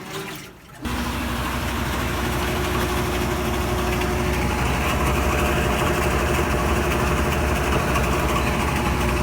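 A GE or Hotpoint washing machine, repaired after failing to spin or start, runs its spin cycle with a steady droning hum. It starts after a brief dip and holds loud and even throughout, with no talk.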